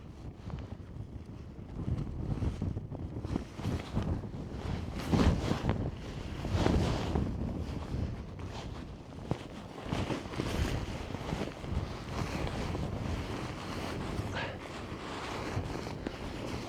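Strong wind gusting across a wild camp in the Lake District during a snow storm, a continuous loud roar buffeting the microphone with surging gusts throughout.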